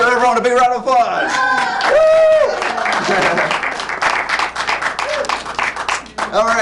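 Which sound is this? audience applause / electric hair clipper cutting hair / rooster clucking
audience applause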